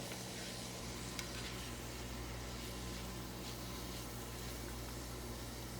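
Meat with green peppers and mushrooms sizzles and fries in a pan while being stirred, giving a steady, soft hiss of frying with faint scraping touches throughout.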